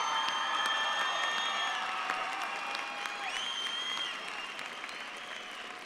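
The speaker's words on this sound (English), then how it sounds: "Let's give them a round of applause." Sustained applause and some cheering from a crowd in a large venue for the Mountain View High School class of 2017 graduation, with scattered whistles over a steady wash of clapping that eases slightly toward the end.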